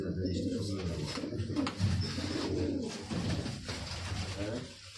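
Pigeons cooing steadily at a racing-pigeon release spot, a low continuous burbling that sits under and among voices of people talking nearby throughout.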